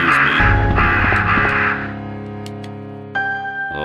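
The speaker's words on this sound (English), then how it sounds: "I hear the crows" Crows cawing in the Resident Evil Survivor video game, several loud harsh calls in quick succession over a steady background tone, with no talking.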